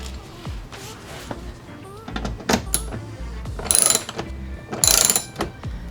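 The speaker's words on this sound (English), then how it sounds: "use this, another 10mm, to go underneath and unscrew the bolt that's underneath right here." A 10mm ratchet clicks in short bursts while unscrewing a deep bolt under a Tesla Model Y during a mud flap install, close and fairly loud, with louder rattling passes near the end.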